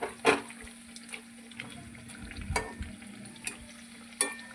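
A mughlai paratha fries in a pan with a low, steady sizzle broken by occasional clinks and scraping stirs, close by and fairly quiet.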